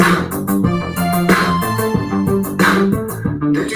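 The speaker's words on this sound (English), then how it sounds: "my favorite part is the synth breakdown from this song" Loud electronic synth breakdown from the song Boys and Girls, with pulsing chordal synth stabs and a steady beat repeating in a driving rhythm, no voices.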